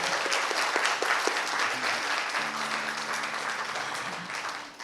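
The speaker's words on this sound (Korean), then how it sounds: "큰 박수 한번 보내주시기 바랍니다." Audience applause at a Buddhist monk's lecture: a steady wash of clapping from a seated crowd, moderately distant, holding at an even level and tapering at the end, with a faint tonal hum in the background.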